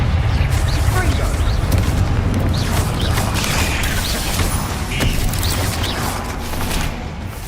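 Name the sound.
Confringo spell blasts in the video game Hogwarts Legacy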